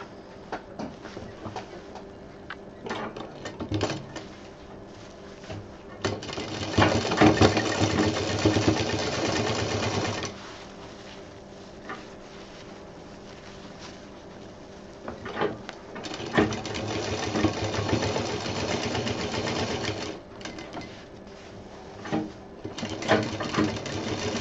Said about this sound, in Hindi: अब इसको हम पलट के पूरा सिल देंगे और ये सब अंदर रखते हुए सिलना है